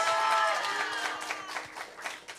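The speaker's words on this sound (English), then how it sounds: "Give a clap of praise to the Lord Jesus." A church congregation at a Sunday anointing service claps in praise, a dense wash of hands with voices mixed in at first, fading somewhat over a couple of seconds.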